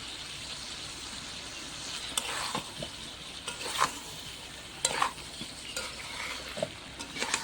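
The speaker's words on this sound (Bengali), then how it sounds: "এবার আমি ভেজে রাখা বড়ি দিয়ে দিচ্ছি।" Fried lentil bori go into spiced pointed gourd frying in a pan, with a faint steady sizzle broken by scattered scrapes and clinks of a spoon stirring against metal.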